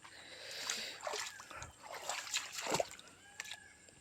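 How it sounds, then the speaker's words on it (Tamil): Water trickles and splashes softly nearby between tree roots in a forest, in small irregular bursts, faint and gentle, with no voices. "எல்லாம் மரத்தோட வேருங்களுக்கு இடையிலேருந்து கிடைக்கிற தண்ணி."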